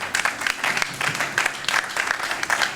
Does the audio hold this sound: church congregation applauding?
yes